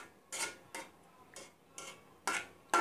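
Hot homemade kotkoti honeycomb candy stirred in a pan to cool it, heard as five short separate scraping strokes spaced about half a second apart, close but fairly quiet.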